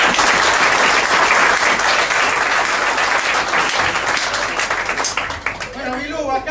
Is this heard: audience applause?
yes